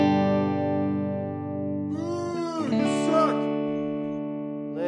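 An electric guitar plays a clean tone through the clean channel of an Orange amp: a sustained chord rings out, then a few single picked notes and slides follow, alone and close.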